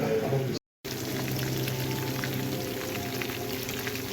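Sausage for gumbo sizzles and crackles steadily in a pot, a continuous close frying hiss with a brief dropout near the start, with no talking.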